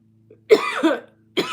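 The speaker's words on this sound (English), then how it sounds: "I felt that cough coming on." A single person coughs in two bursts, a harsh double cough followed after a short pause by another, close and fairly loud.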